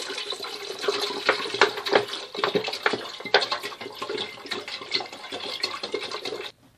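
About a litre and a half of water is poured into a cooking pot while preparing peanuts for a traditional cake, making a continuous, close splashing rush that stops abruptly at the end.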